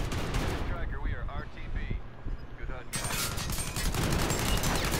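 Rapid, dense gunfire in a Call of Duty match, loud, continuous bursts layered with game noise and a voice talking over the shooting, the firing intensifying in the final seconds.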